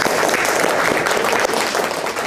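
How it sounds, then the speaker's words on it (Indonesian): Audience applause at a Dutch viewing party held by volunteers in The Hague for an Indonesian presidential debate, dense and steady clapping filling the whole stretch with no talk over it. "Ya, mari kita tepuk tangan kepada"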